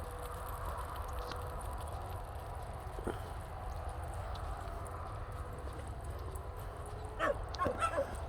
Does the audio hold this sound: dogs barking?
yes